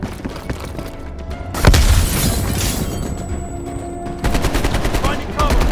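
A grenade blast in the combat shooter Call of Duty: Black Ops Cold War: a loud, sudden boom followed by a rumbling wash of noise, then bursts of rapid gunfire close by.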